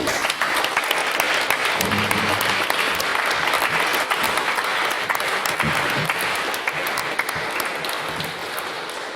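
Sustained audience applause at a debate on defunding the police fills the room, a thick, continuous patter of many hands that stays loud and steady.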